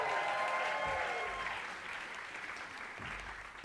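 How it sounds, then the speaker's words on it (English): Audience applause fills a concert hall at a musical theater songwriting showcase for high school students, a steady crowd clapping that is loud at first and then eases to a softer, sustained patter. "that's okay, you can applaud"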